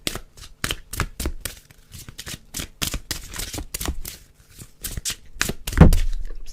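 A deck of playing cards is shuffled close up in a rapid run of crisp riffling bursts, ending with a heavier thump as the hand knocks the microphone.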